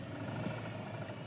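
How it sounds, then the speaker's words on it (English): A Land Rover LR3 engine running rough gives a throaty roar that holds steady and loud throughout, with a gritty low rumble and no voices. "Let me give it a little gas."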